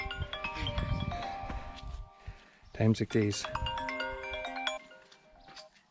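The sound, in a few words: phone ringing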